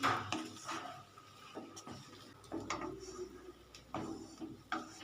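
Suji upma with ghee being stirred in a pan: soft intermittent scrapes and light wooden or metal knocks, quiet and close, spaced irregularly across a few seconds.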